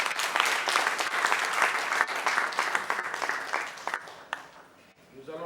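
Audience applause for Dimitri Sanga, UNESCO regional director for West Africa, at a formal event. A loud, dense crowd clapping holds steady, then thins and fades toward the end.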